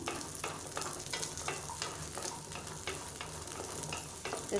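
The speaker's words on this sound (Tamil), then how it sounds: "சின்ன வெங்காயம் நல்லா வதங்கட்டும்" Small onions, shallots, fry in oil for a chutney with a soft continuous sizzle, while a spoon stirs through them in repeated short scraping strokes at an even rhythm.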